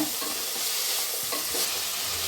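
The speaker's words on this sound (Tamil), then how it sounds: "தக்காளியை சேர்த்துன பிறகு நம்ம 2 நிமிஷம் நல்லா மிக்ஸ் பண்ணி விடலாங்க." Tomatoes and vegetables for broccoli poriyal sizzling in a hot pan while a spoon scrapes and stirs them in short, irregular strokes, close and fairly quiet.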